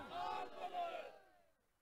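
A crowd at a celebration lets out a loud collective roar of cheering and chanting that swells twice and then fades away within about two seconds.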